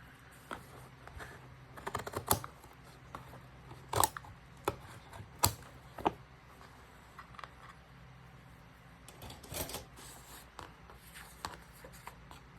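Scissors cut a tab off a cardboard pizza box in a few short, crisp snips with brief pauses between them, close by and fairly quiet.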